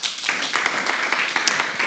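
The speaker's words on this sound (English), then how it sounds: "Let's give it a round of applause." Steady applause from an audience at a business retreat, many hands clapping together in a dense, continuous patter of sharp claps with no voices over it.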